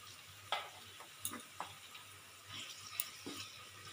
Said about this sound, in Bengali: দিয়ে আমি সুন্দরভাবে আরও 1 মিনিট কষিয়ে নেব